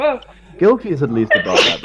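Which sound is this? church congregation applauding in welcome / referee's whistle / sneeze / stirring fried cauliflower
sneeze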